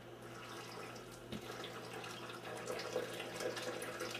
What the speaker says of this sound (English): as you pour the water over the grinds, just make sure that you get them completely saturated